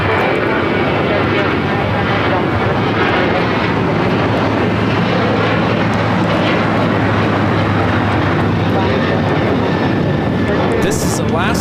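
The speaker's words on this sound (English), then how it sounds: "This is Alaska Airlines Flight 6 taking off to Washington Reagan National on the 737-800" An Alaska Airlines Boeing 737-800 takes off at LAX with a loud, sustained jet roar and a low steady drone throughout, ending in a brief sharp noise.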